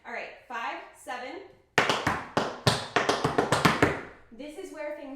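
Tap shoes strike a floor in a rapid riff pattern, a burst of about a dozen sharp, close metallic clicks in quick uneven rhythm, with a person talking briefly before and after the steps.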